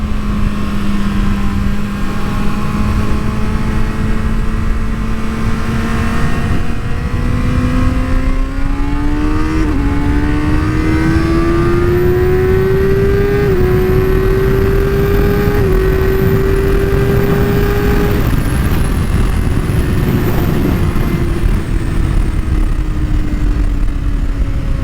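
A 2023 Kawasaki ZX-6R accelerates hard along a road, its engine note climbing steadily in pitch through a couple of shifts, loud and close under constant wind rush.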